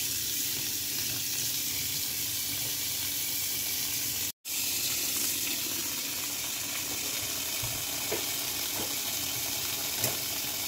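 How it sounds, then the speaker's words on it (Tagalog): Cold tap water runs steadily over freshly cooked elbow macaroni in a sink, a continuous close hiss with one brief dropout partway through and no talking. "Kailangan nating hugasan ng malamig na tubig."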